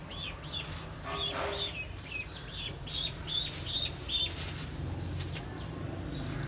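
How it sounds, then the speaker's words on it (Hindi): Chickens cluck and chirp in short repeated bursts, moderately close, over a low steady background hum. "कोको को अला मुर्गे के पास लेके चलते हैं"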